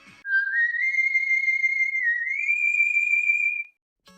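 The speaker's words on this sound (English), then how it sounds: "That whistle." A whistle from a Mega Man fan story, heard as one clear, sustained tone that rises in pitch, holds, then steps higher before cutting off, with no other sound present.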